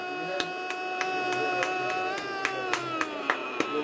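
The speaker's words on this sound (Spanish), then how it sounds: "Hay que aplaudir, boludo." Sharp single hand claps ring out in a steady, evenly spaced rhythm from a football fan watching a Bolivia–Paraguay World Cup qualifier. They sit over sustained tonal singing or chanting, with a voice present.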